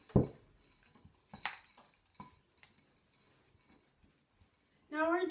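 Spoon clinks and scrapes against a bowl as sugar-cookie dough with cranberries, walnuts and white chocolate chips is mixed by hand, in sparse, close knocks and taps, before a voice cuts in at the end.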